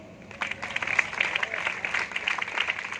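Audience applause after a patriotic Hindi poem recitation about a soldier at a Hindustan Scouts & Guides event in Kurukshetra, a steady wash of many hands clapping throughout at moderate level, with some voices mixed in.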